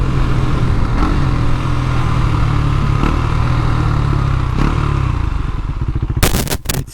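A motorcycle with a lit check-engine light and a suspect fuel pump being ridden: a loud, steady engine hum mixed with wind rush, then a brief burst of clattering buffeting near the end.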